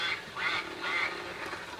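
Three nasal duck quacks come in quick succession, fairly faint and on their own with no talking.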